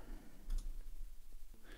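A single faint computer mouse click, soft and brief against a quiet room background.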